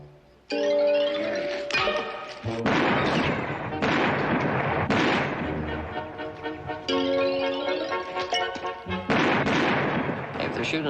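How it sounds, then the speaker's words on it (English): Gunfire from shooters in a western rings out in several loud, sharp bursts with echoing tails, spread unevenly across the scene. "If they're shooting at us, they're the worst shots in the world."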